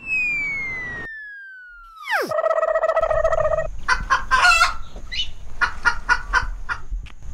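A chicken in a village setting clucks in short, repeated bursts after an opening electronic whooshing tone, close and fairly loud.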